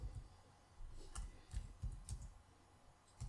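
Computer keyboard typing into a web browser, a short run of light, irregular key clicks close by, quiet and alone with no talk.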